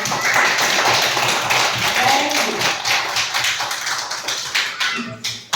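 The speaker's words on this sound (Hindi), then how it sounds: "तालियां बजा दो संध्या के लिए एक बार और" Schoolchildren clap for a classmate at a government primary school celebration, dense steady clapping that thins into scattered claps near the end, with little talk.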